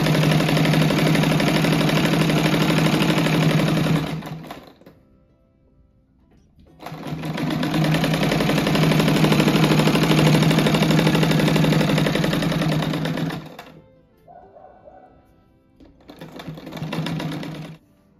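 Sewing machine running in long continuous bursts while stitching a seam on a simple rug, loud and steady, with two brief pauses between runs and no talk.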